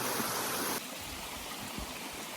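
A mountain stream flows beside the Horns Pond Trail at about 2,300 feet on Mount Bigelow, Maine, with a constant close rush of water and no voices.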